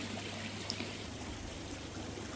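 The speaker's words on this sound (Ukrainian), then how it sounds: "коли влітку і ще цей бризкіт води, е, він освіжає" Fountains splashing outdoors beside a restaurant on a summer evening, a steady continuous rush and patter of falling water filling the scene, with no voices over it.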